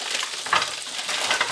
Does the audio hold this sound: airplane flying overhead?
no